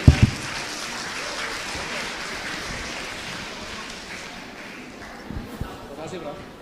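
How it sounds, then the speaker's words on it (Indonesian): An audience at a university panel event applauds the speaker and panelists, a moderate burst of clapping heard somewhat distant that tapers off over several seconds, with a few louder knocks near the start and end. "boleh kita berikan tepuk tangan sekali lagi untuk pembicara para panelis."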